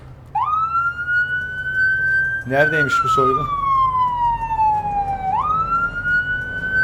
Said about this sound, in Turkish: sirenlerimizi açalım